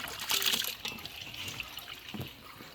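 Water splashing and trickling while fish is washed, a close wet rush at first that eases into a softer, uneven dribble.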